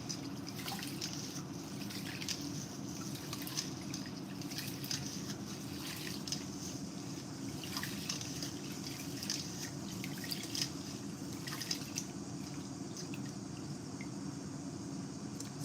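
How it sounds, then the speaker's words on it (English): Rice washed in a bowl of water by hand, with continuous soft dripping, swishing and trickling sounds close by over a low steady hum. "I must really wash the rice before"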